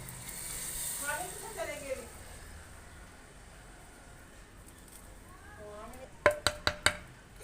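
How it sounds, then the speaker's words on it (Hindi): Spices temper in hot oil for masoor dal, sizzling with a soft hiss beneath a voice, ending in four quick metallic clinks of a utensil against a pan. "इतना ज़बरदस्त ये तड़का लगा है"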